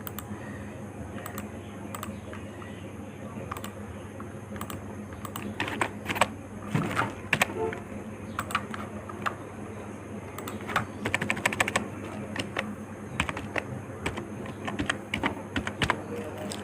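Keys clatter on a computer keyboard in uneven bursts of rapid typing, close and moderately loud over a quiet background.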